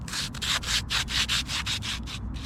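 A dirty fishing reel, gritty after being laid in grass, grinds with a rapid rhythmic scraping as it is cranked, close and fairly loud with no talking.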